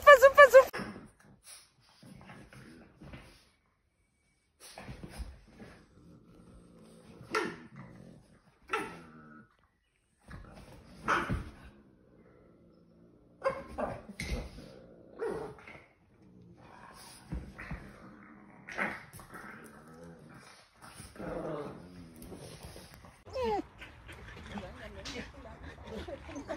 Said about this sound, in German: Ein schöner Hund, ein richtig schöner Rüde.